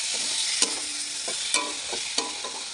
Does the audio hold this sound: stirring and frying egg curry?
yes